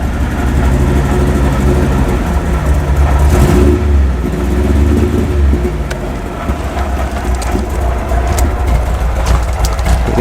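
An MGB classic car engine running rich, a loud, steady, uneven rumble heard from close by with a few sharp ticks over it.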